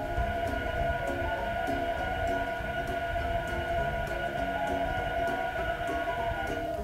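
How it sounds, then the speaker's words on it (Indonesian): A Toyota C+Pod electric car gives off its artificial pedestrian warning sound, a steady hovering electronic drone with layered tones like a spaceship, holding evenly throughout without a break. "Suaranya itu mirip kayak suara UFO spaceship kayak gitu, dan dia baru bersuara kalau dia mau jalan kayak gini"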